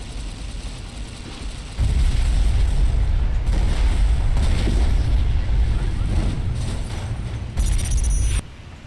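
A detonator-triggered explosion in Fallout: New Vegas, Lonesome Road DLC, lands as a heavy boom with a rolling low rumble lasting several seconds, then a second burst before it cuts off.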